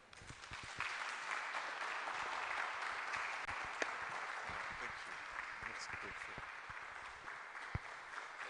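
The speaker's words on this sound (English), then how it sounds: "the Honorable Member of Parliament deserves a bigger round of applause" A hall audience at a Christian civic gathering in Ghana claps steadily for a Member of Parliament, a sustained, even round of applause with a few sharper individual claps standing out.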